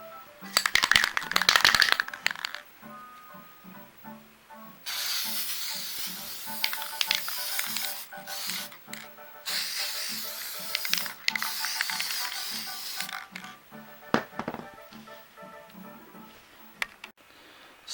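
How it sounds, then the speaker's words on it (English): Varnish sprayed from a can onto a custom-painted GameCube controller, several hissing bursts of a few seconds each separated by pauses, mixed with clicks and handling noises close up. "you are going to spray everything with the varnish"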